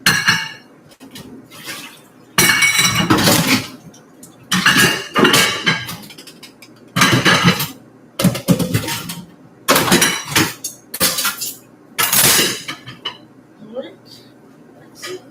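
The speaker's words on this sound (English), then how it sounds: "Let me have the dishes to wash." Dishes being washed in a kitchen, with repeated bursts of clattering plates, pots and cutlery and running water, separated by short pauses, with voices heard at times.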